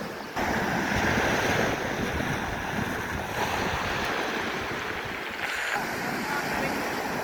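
Strong sea waves surge and wash continuously at close range, with steady wind buffeting across the whole stretch and no voices.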